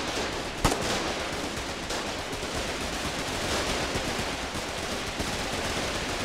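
Steady, dense gunfire from the Foxhole war game, a continuous wash of distant rattling shots with one sharper crack near the start, no voices over it.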